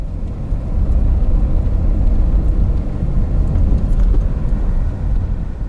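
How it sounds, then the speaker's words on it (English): A Toyota RAV4 with all-wheel drive rolls along a dry, sandy dirt road, its steady low engine and tire rumble filling the cabin continuously and fairly loud, with no talk. "Now this is a Toyota RAV4 that has all-wheel drive, not four-wheel drive, and so far it's doing pretty good."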